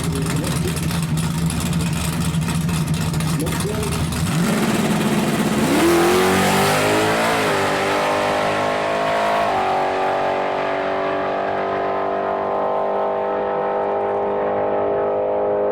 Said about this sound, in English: Juicy burnout there, Mark. Juicy burnout. Oh, shot a nos there.